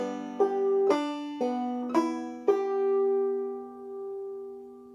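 Plucked clawhammer-style banjo notes ring out in a short, bouncy pattern, five attacks with sustained tones fading at the end, played alone and close.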